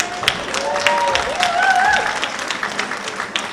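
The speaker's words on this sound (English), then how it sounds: "give a round of applause" An audience applauds at the Down Rose of Tralee event, with a dense patter of clapping that runs throughout, mixed with raised voices and a whistle-like tone.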